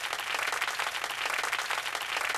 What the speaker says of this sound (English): that's enough clapping